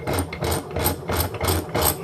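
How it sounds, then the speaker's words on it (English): A Rolls-Royce metal brake valve is cranked down in a big vise, giving a rhythmic series of loud ratcheting clicks in about six even strokes, close up with no voices. "I'm going to go ahead and put this back in a vise. We're going to crank it down."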